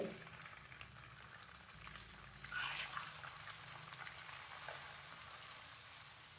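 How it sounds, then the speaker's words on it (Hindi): Sifted semolina is tipped into melted desi ghee in a pan for halwa, setting off a faint, steady sizzle with a soft rustling pour and a brief swell as the grains hit the hot fat, with no talk. "अभी मैं इसके अंदर डाल दूंगा 1 कप भर के सूजी"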